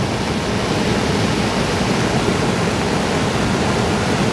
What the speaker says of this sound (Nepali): फेरि यो साउनमा आज खोला बढेको छ, यहाँनिर देखिरहनु भएको छ